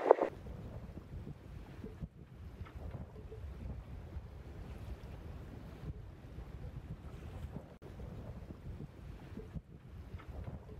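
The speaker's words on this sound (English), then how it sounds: "it was blowing 30 knots out here" Strong wind of around 30 knots blows across open sea near Weipa, Australia, buffeting the microphone with a continuous low roar and gusty swells, water and hull sounds underneath, no talking.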